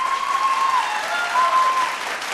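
Audience applause after a vocal duet performance on a televised singing competition stage, a steady dense wash of clapping that holds throughout without fading, while a sustained tone rings over it.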